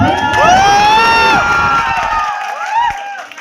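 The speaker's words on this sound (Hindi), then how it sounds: "आवाज देके बाद ताली बजा दीजिए।" A crowd at a song-promotion event in Gorakhpur cheers and shouts loudly, with rising whoops and some clapping, then the noise thins out toward the end.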